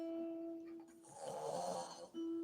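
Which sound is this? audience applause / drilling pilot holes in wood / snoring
snoring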